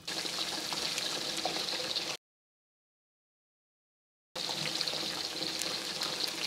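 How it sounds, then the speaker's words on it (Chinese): Batter-coated pork strips deep-frying in hot oil, a loud, close, continuous crackling sizzle that cuts to silence for about two seconds midway before resuming just as strongly. "油温五六成热，一条一条下入炸。"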